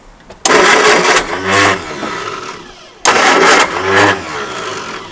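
A car engine cranks and catches twice in a row after head gasket repair work, each start a loud burst that settles into a rough idle, close by with no talk.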